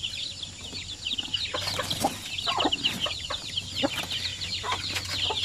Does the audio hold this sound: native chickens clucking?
yes